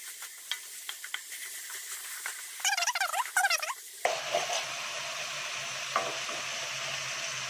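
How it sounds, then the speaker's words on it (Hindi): Chopped tomatoes sauté in a pan for red rice, starting with scraping stirring strokes, then a steady, close sizzle once the tomatoes settle into the hot oil. "इसको भी थोड़ा सौते कर लेंगे।"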